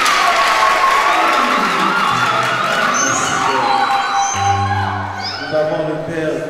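Church congregation claps steadily during a first Mass at St. Frédéric parish, the applause loud and continuous while a voice speaks over it.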